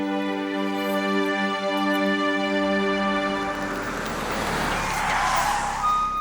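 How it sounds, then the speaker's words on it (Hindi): A lawyer's car arriving in a domestic drama scene, heard as a loud, continuous engine rush with a tyre-like hiss swelling toward the end, under sustained tonal background sound and with no talk. "वकील साहब की गाड़ी आ गई"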